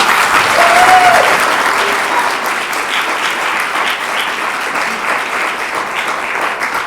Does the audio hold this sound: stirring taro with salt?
no